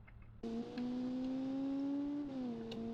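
A revving race car engine in a racing video game drones at a steady high pitch, starting abruptly and holding loud, shifting slightly in tone before easing off.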